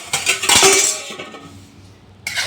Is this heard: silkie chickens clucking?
no